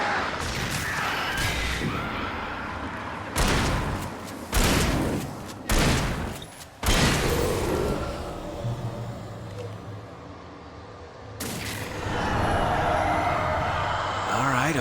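Shotgun blasts in Alan Wake come as several loud, separate booms spaced a second or so apart, each with a sharp crack and a rumbling tail, among quieter game ambience and a voice.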